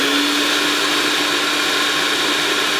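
Oreo biscuits ground into crumbs for a cake with a motorized appliance, a loud, steady whirring drone running unbroken throughout.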